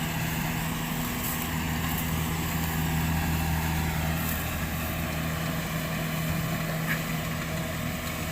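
Kubota DC70 cabin combine harvester with a Japanese engine running steadily at a rice field, a continuous loud low droning hum and hiss with no pauses and no talk.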